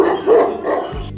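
A large Kangal dog in Sivas gives a loud, close bark, a short deep burst that carries on briefly as a howl-like tone.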